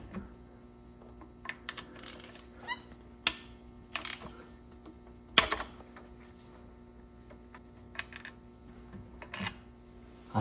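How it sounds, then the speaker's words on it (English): Two 10mm bolts are worked loose from the CVT filter on a 2017–2022 Honda CR-V, with sparse metallic clicks and taps, one sharper clink, spaced over a quiet background. "So there's 2 10mm bolts here to take off this filter. I'm gonna go ahead and remove those 2 10s."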